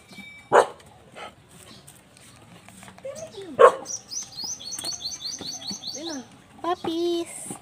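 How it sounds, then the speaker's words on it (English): Puppies bark in two sharp, separate yaps a few seconds apart, close and fairly loud, with birds chirping and faint background sounds between them. "Puppies."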